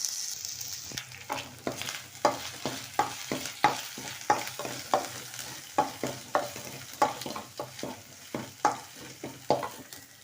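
Ginger garlic paste fries in a pan for chicken curry, with a soft sizzle under a regular series of sharp spoon scrapes and taps as it is stirred.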